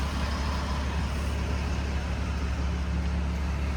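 A Cummins diesel engine in a 2026 Ram 2500 truck drones steadily at idle, a constant low rumble with a dense broadband hum and no breaks.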